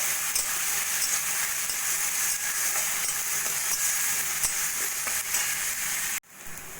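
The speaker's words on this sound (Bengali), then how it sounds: "এবার আমি পেঁয়াজটা একটু হালকা সোনালি করে ভেজে নেবো" Finely chopped onions fry in a pan until light golden, making a steady, close sizzle with faint stirring clicks, until it cuts off abruptly near the end.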